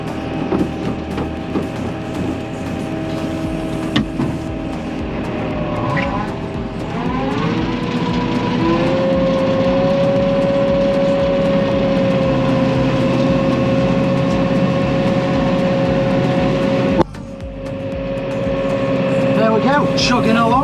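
A tractor engine chugs steadily while topping a hay field after haymaking, a loud continuous drone whose pitch rises as it settles into a constant hum, with a brief clunk partway through.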